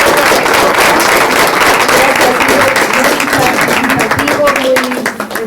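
Audience applause at the close of a Spanish-language panel discussion on political responsibility and education, a steady dense wash of clapping running the whole stretch while a speaker talks over it, thinning slightly at the end.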